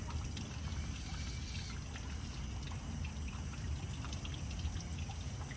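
Water from a garden hose rinses a freshly harvested purple yam (ube) in a steady, continuous splashing trickle close by, with no voices.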